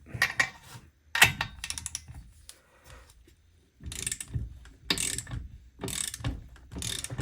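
Ratchet of a torque wrench tightening bolts on the cylinder and muffler of a Jonsered 625 II chainsaw under rebuild, rapid close clicking bursts separated by brief pauses, alone without speech.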